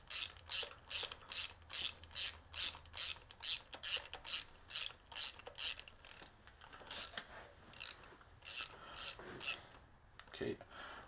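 A hand ratchet clicks in a steady run of rapid strokes while snugging spark plugs on a 3.2 Jeep Cherokee, close and clear, the rhythm loosening toward the end with a few scraping tool sounds.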